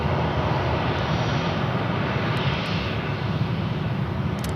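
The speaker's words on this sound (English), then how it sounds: "That's a beautiful Frontier livery taken off on 31 Center" A Frontier Airlines jet taking off from runway 31 Center at Charlotte airport, a steady broad engine roar that holds at a constant loud level throughout, heard from some distance with no voices.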